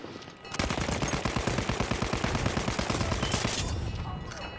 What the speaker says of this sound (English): Right, I'm shooting the enemies too.